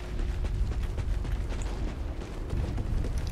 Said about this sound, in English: Someone like you would use a rocket launcher on me